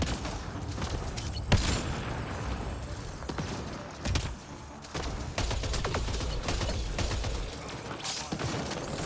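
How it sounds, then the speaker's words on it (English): Gunfire in the video game Mass Effect Andromeda: scattered sharp shots and short bursts crack at irregular intervals over a dense, busy battle backdrop, with no voices. "Oh, these shots are not hitting, man."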